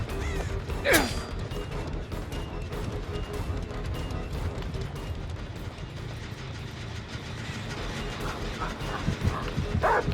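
Houndmaster's dog in the Dead by Daylight video game barking sharply once early on, with a yelp, over a constant mechanical game rumble and clanking, followed by fainter distant yips.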